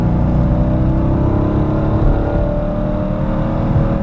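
A Chevy Corvette C5 Z06 engine pulls steadily under light throttle, its deep, continuous drone loud and close from inside the car, with no talking over it.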